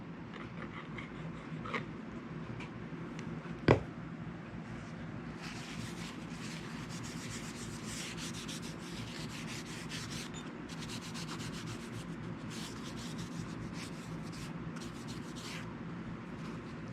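Steady close-up rubbing as machine oil is worked by hand onto an old 1911-patent Trimont spud wrench being restored after gun bluing, a continuous soft scrubbing texture with one sharp click partway through.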